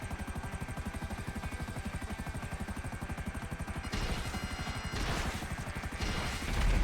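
A Savage attack helicopter in GTA 5 flies close by. Its rotor chops in a steady, rapid rhythm and stays loud throughout, with bursts of noisier engine wash near the end.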